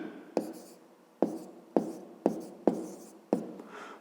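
Pen writing on paper while working a grade 5 math exercise, six distinct short taps and strokes at an uneven pace, close and quiet, with no talking.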